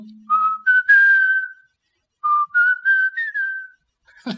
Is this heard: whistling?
yes